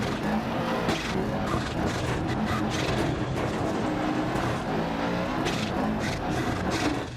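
Rally car engine in Dirt Rally 2.0 on an Argentina stage, revving hard and continuously with gravel and skidding noise throughout, loud and close, no talk.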